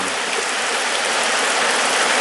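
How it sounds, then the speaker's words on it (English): Heavy rain pours down steadily outside a house, a dense continuous hiss of water with no break, loud and close throughout and no voices over it. "We can use the rain, but I don't know. It is coming down."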